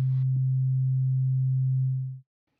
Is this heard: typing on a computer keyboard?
no